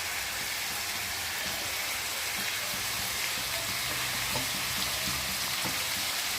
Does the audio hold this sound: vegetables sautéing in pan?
yes